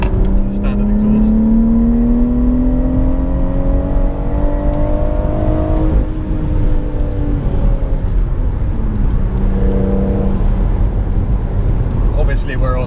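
A BMW M140i with a BCS Powervalve exhaust in sport mode drones and rises through the gears on a runway, with close, steady engine tone and someone talking over it.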